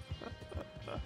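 Hoofbeats of a horse in Red Dead Redemption 2 Online, a quick rhythmic clip-clop of several close, muffled steps over a low game background hum.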